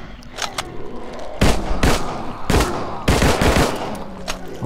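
A small gun fires at zombies in the video game 7554, loud close bursts of rapid shots in three or four clusters with scattered single reports between, and no talk.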